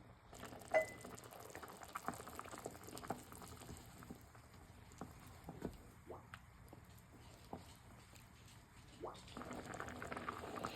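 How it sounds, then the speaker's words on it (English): Orzo pasta soup with sweet peppers simmering in an uncovered pot, a steady soft bubbling and gentle popping running throughout at low, even volume, with a few faint clinks. "So I'm going to leave the lid off for this now and just let this cook and simmer for about 9 minutes"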